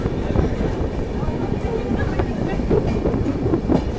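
A passenger train on the South Bihar Express pulls in to platform three at Danapur station, giving a steady, close rolling rumble with faint rail clatter throughout. Voices murmur faintly underneath.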